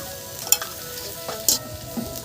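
Fish fries in hot oil seasoned with salt and turmeric, a low steady sizzle broken by a few sharp spatters and stirring clicks, close and without speech.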